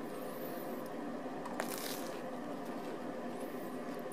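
Biting into crunchy McDonald's food from the five-dollar meal deal gives a wet, crackly crunch with a sharper burst midway, heard close up over a constant low background hiss, with no talking.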